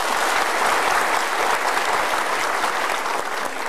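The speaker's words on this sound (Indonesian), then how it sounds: "boleh kita kasih tepuk tangan dulu semua?" Studio audience applause on an Indonesian motivational talk show, a dense, steady roar of many hands clapping at close range throughout, easing only slightly at the end.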